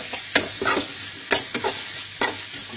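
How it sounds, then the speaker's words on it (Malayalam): Curry leaves frying in oil in a pan as a spatula stirs them: a constant bright sizzle runs throughout, broken by several scraping stir strokes at an uneven pace, close and fairly loud with no speech. "നന്നായി മൂക്കുന്ന വരെ നമുക്ക് ഇളക്കിക്കൊണ്ടിരിക്കാം"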